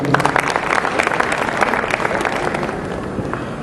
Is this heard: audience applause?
yes